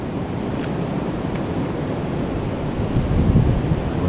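Steady broadband rush of floodwater flowing through woods along a trail at Battelle Darby Creek, continuous and fairly loud, swelling slightly toward the end, with no voices.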